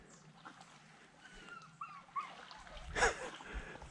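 A dog whimpers softly with a few faint, high whines, followed by a brief louder rustle nearby.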